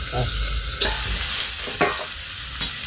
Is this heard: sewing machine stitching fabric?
no